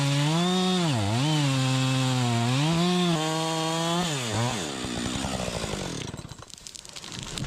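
A chainsaw runs loud and close while felling a tree beside a fir during farm logging, its engine pitch dipping and rising under load through the cut before dropping away to a rough idle near the end.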